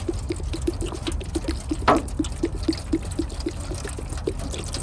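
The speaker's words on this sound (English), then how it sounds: "pour it into this" Liquid poured into a tray while testing an RC truck part, heard as a steady trickling pour with a soft rhythmic ticking and one brief louder splash near the middle, close and moderately loud.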